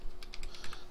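A handful of quick keystrokes on a computer keyboard, faint and close, in a short irregular run.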